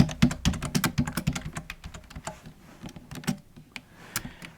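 Rapid keystrokes on a computer keyboard while a node name is typed into a visual scripting editor, a close, steady run of crisp clicks that thins out toward the end, with no voice.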